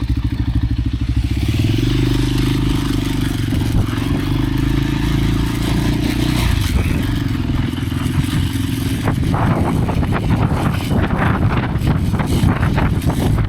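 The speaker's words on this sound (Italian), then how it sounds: "c'è tantissimo vento, tantissima polvere nell'aria" Strong wind in a sandstorm in Mauritania roars and buffets the microphone without a break, a dense, rough rush of air with low rumbling and clattering throughout.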